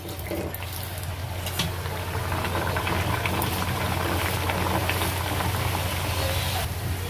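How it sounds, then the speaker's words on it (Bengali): Vegetables fry in hot oil with a steady, dense sizzle and bubbling that continues evenly throughout, close and fairly loud. "এইভাবেই সবগুলো ভেজে নেব"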